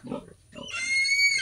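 A mud-footed pig gives a couple of short, close grunts, then a higher, drawn-out squealing whine.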